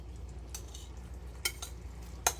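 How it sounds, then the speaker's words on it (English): Shrimp go into a hot skillet with a few sharp clinks and brief scraping contacts against the pan, set over a faint, quiet sizzle. "we are going to get that pan nice and hot. We're going to add our shrimp"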